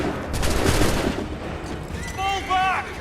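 A musket volley in the video game Assassin's Creed III, a loud, dense crackle of many shots fired together close by, with someone shouting as the firing fades.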